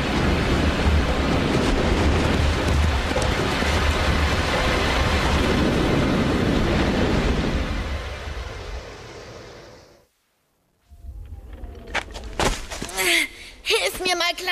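An avalanche rumbles in an animated cartoon, a loud sustained roaring crash that fades into sudden silence, followed by character voices speaking over lighter sounds.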